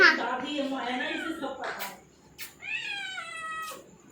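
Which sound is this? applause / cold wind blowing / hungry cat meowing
hungry cat meowing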